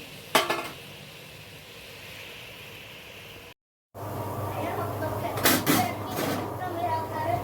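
Jaggery garelu, sweet lentil fritters, sizzle steadily as they fry in a pan on a stove, with occasional clinks of utensils and a voice talking over the cooking.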